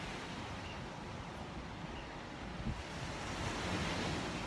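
Ocean waves break on a beach on a morning with good surf, a continuous roaring wash that swells louder toward the end, mixed with wind buffeting the microphone.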